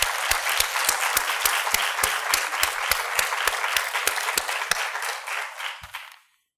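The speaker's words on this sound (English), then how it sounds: "you all deserve another round of applause" Audience applause at a children's hospital 10-year anniversary event: a sustained round of many hands clapping with a few sharper individual claps standing out, then fading quickly to silence at the end.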